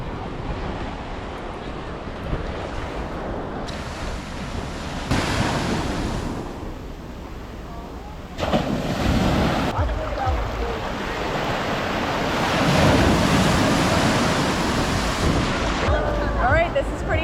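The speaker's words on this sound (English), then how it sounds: "We've already arrived at the beach." Ocean waves breaking on a beach at Bimini in the Bahamas in the morning, a continuous rushing wash that swells and recedes, with wind buffeting the microphone.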